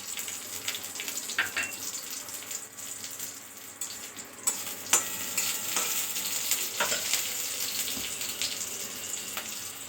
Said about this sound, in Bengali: তেলটা গরম হয়ে গেছে, এবার এর মধ্যে দিয়ে দিচ্ছি শুকনো লঙ্কা, তেজপাতা আর গোটা জিরে ফোড়নে